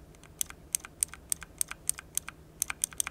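Crisp, evenly spaced clicks from an MSI Vigor GK50 Elite mechanical keyboard, about a dozen sharp keystrokes in a steady rhythm, close and clear with no talking.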